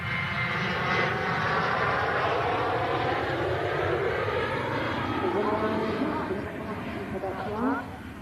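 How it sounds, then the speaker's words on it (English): Ryanair aircraft departing Manchester Airport, a steady loud engine roar sustained throughout with a slight drop near the end, with a voice talking over it. "Next departure, Ryanair going to Oslo."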